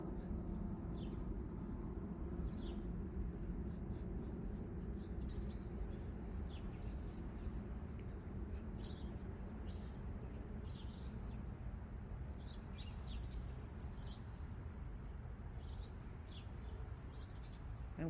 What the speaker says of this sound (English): more chirping or whatever in the different seasons